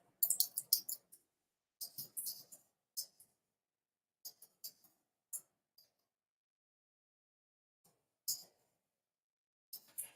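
Clusters of light, crisp key clicks tap on a computer keyboard in irregular bursts with pauses between, close and quiet against near silence.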